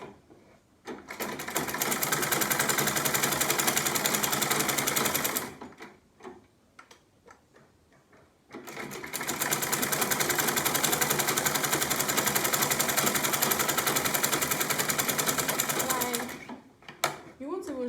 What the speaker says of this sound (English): You can see the way I'm sewing now.